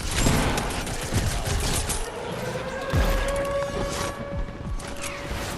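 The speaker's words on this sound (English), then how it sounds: "Shotgun shot 160. The blue pump." A blue pump shotgun in the video game Fortnite fires during a box fight, with sharp repeated gunshot blasts and mechanical clacks amid a busy, crashing game mix and faint talk.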